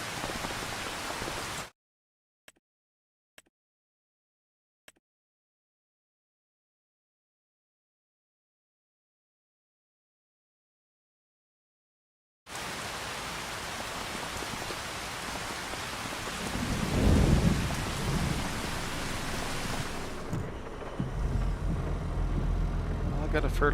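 Steady rain falling in the farming game Farming Simulator 25, a dense hiss of rain on surfaces after a stretch of silence, with a vehicle engine rumbling beneath; no clear thunder stands out.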